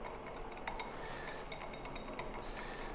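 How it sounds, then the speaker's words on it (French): A whisk beats thickening chocolate in a saucepan in a home kitchen, giving faint, quick irregular metallic clinks and scraping against the pan over a low background hiss. "Alors là, il faut fouetter très fort."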